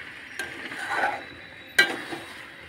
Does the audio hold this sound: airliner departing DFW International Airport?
no